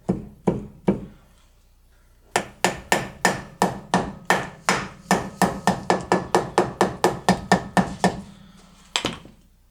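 Roughly two dozen sharp hammer taps drive a dust cap back onto a front brake hub of an early Jaguar XJ-S fitted with EBC rotors. A few opening knocks lead into a steady run of close, loud taps, with one final knock after a pause.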